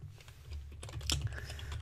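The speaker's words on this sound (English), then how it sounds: "as long as I'm typing correctly" Quick, light keystrokes on a computer keyboard tap out in an irregular burst, close but soft over a low steady hum.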